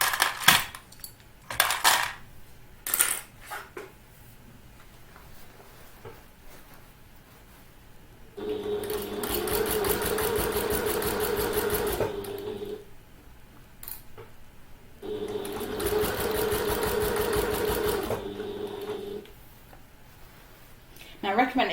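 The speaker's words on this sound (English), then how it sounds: "slow to a stop with your needle down, remove the clips, and then keep sewing" A sewing machine stitches a handbag in two bursts of fast, even mechanical whirring, each lasting several seconds, set between quieter stretches of light clicks and handling noises as clips are moved, sounding close.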